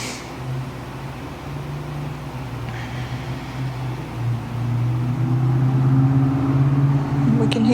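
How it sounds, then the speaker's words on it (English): Traffic passes outside the Norris English Pub, heard from indoors as a steady low broadband rumble that swells slightly toward the end, with no talking. "We can hear the traffic going by."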